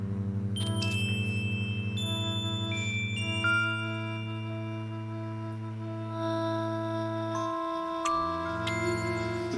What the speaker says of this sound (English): some really low humming, some mid-frequency humming, and some higher pitched humming, and the percussive elements, and they combine to sound like this.